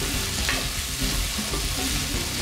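Vegetables for chervil soup frying in a pan, a dense close sizzle with faint stirring scrapes underneath, steady and loud, no voices.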